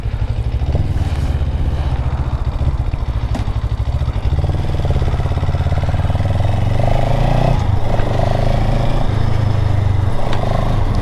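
A 2022 CFMOTO 700CL-X motorcycle engine on a first ride, a loud, close, continuous engine drone that climbs in pitch as it pulls, with some wind and mechanical clatter and no speech.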